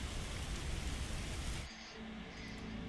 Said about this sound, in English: The rain finally stops.